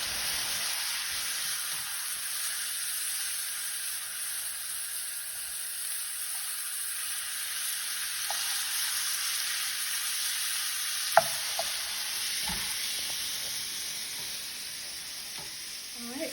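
Shrimp sizzle and fry in a pan for shrimp and grits, a steady bright hiss running throughout at close range, with a few soft clicks of stirring near the end.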